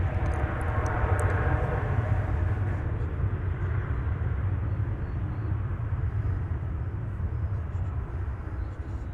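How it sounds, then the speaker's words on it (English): A plane takes off at DFW Airport, heard from about two miles away as a steady, broad jet-engine roar with a rumbling low end that holds for the whole stretch and fades a little toward the end. "The point where that plane lifts off from the runway is probably about 2 miles from where we are."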